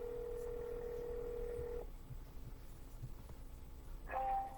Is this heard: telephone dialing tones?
yes